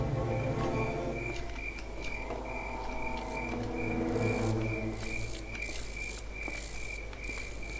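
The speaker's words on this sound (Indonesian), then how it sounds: "Ada suara jangkrik teman-teman" Crickets chirp steadily in the Granny 3 horror video game, a high, continuous pulsing trill layered over low background hum and faint ambient noise.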